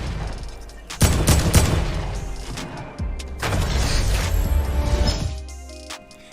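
Rapid bursts of gunfire in the Fortnite battle royale game, loud and close, with dense volleys around the start and middle and a short lull between them, ending in near silence.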